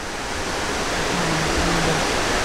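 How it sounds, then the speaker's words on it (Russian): Water rushes steadily over river rapids and a small weir in Cuba, a loud, unbroken roar filling the whole moment with no voices. "Это один из порогов и такая запруда, ну, чтобы вода быстро не уходила."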